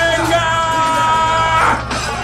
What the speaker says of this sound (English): A riot erupts, screams, chaos.